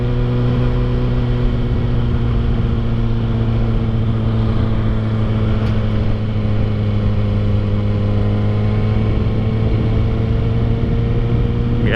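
A Kawasaki ZX6R motorcycle with a loud aftermarket muffler idles close by, a constant deep throbbing engine rumble with steady harmonics filling the whole stretch.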